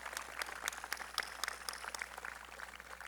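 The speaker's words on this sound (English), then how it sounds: "I think they deserve a very good round of applause for all they've done to bring you to this point today" Graduation audience at the 2022 Millis High School ceremony applauding the school staff, a faint, distant patter of scattered claps running steadily throughout.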